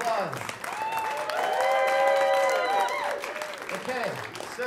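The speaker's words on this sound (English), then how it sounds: "Give a big round of applause." Audience applause at a School of Rock Chatham show at CBGB: a steady wash of clapping that swells through the middle, with sustained tones and voices running over it.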